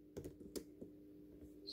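A few soft computer keyboard key presses, sparse and faint clicks over a quiet background hum, with no talking.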